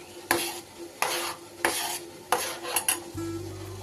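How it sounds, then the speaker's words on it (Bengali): A spoon stirs Amul milk into thickened milk in a metal pot, several distinct scraping strokes at a regular pace, close and clear, before a low simmering hum settles in at the end. "এটাকে আমি ভালো করে গুলিয়ে নেব।"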